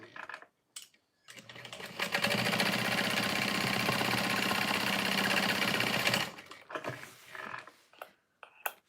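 Sewing machine top stitching a tote bag, running in one steady burst of rapid mechanical stitching for several seconds, framed by brief handling clicks and pauses before and after.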